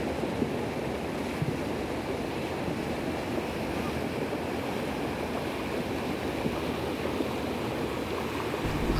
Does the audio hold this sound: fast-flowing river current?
yes